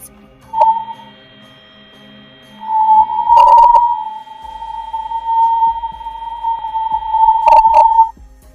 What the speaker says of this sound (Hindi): यह तीसरी ऑडियो हाई चार्ज पार्टिकल में होने वाले बदलाव की आवाज है